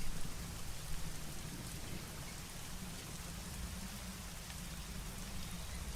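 Heavy rain pours steadily in the video game Secret Files: Tunguska, a dense, even wash of water with a deep low rumble of thunder underneath, loud and continuous, with no voices.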